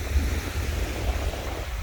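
Sea waves break on a beach, heard as a steady wash of surf mixed with wind buffeting the microphone throughout.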